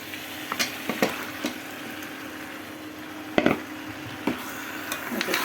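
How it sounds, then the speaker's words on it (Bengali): Meat dropped into spiced masala frying in oil, sizzling steadily with several sharp spoon scrapes and knocks against the pan, close and fairly loud. "এখন আমি মাংসটা দিয়ে দিব।"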